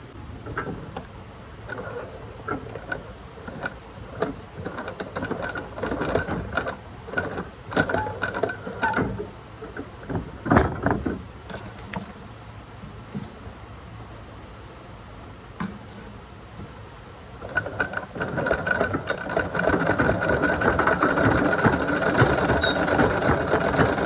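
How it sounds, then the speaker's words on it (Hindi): An old sewing machine stitching aprons, running in short uneven bursts of rapid mechanical chatter with pauses between, then a longer steady run near the end, heard close and fairly quiet. "ये मेरे पापा की मशीन है, मेरे पापा इस पर सिलाई किया करते थे, तो अभी मैं इसको सिल लेती हूँ"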